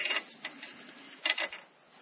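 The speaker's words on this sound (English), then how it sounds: "So Dad's cleaning this up with a file." A hand file scrapes over marred metal on a 1939 Caterpillar D4 engine part during head work, several short rasping strokes close by, with brief pauses between them.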